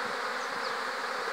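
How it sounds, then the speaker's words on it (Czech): Honeybees buzz at the hive in a dense, continuous hum that stays loud and close throughout, with no voices. "Včely se dobře adaptovaly přes to ochlazení."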